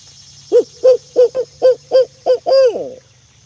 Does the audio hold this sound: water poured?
no